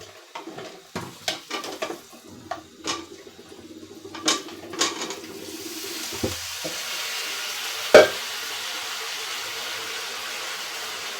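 Potato and ridge gourd hit a hot oiled pan with a sharp sizzle, followed by a run of clattering spatula strokes against the pan and a steady frying hiss that carries on alone.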